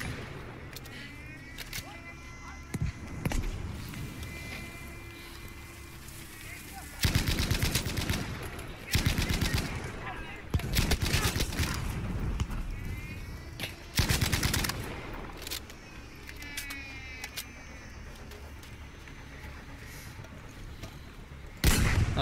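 Repeated bursts of gunfire from a gun in the video game Battlefield V, some short and some sustained, loud cracks standing out over a steady background of game noise.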